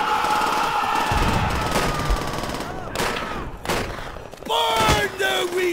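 Dense World War II video game gunfire: bursts of rifle and machine-gun shots crackling loudly one after another, with booming impacts and shouting voices mixed throughout.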